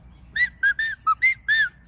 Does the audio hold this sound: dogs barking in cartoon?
no